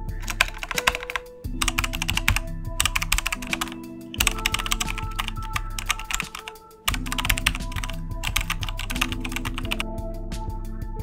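A computer keyboard being typed on in quick, clattering bursts of keystrokes, close and steady across several runs with short pauses, over a faint tonal background and no talk.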